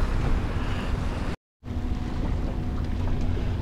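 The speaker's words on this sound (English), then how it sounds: "That big old boat, man, those waves." A big boat passes near a fishing spot at Seawolf Park, with a steady low rumble and rushing wash of waves and wind noise, broken once by a brief dropout.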